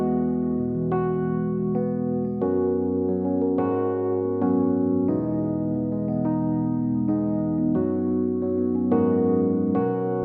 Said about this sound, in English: the way I was able to get this sound by choosing a preset called Crystals inside Mark 1.